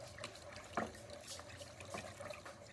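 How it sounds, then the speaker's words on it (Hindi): A wooden stick stirs powder into water, giving soft continuous swishing and sloshing of liquid with a few small splashy accents, close and moderately quiet. "इसके साथ आपने इसको पानी में अच्छी तरह से मिक्स करना है।"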